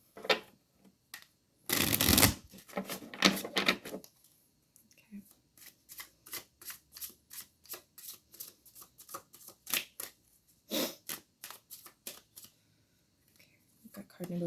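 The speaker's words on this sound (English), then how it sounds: "I'm just going to give her a quick shuffle." A deck of tarot cards is shuffled close up, with a loud riffling burst followed by a long series of quick, rhythmic soft card slaps and flicks.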